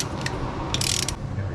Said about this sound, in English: I'm using a torque wrench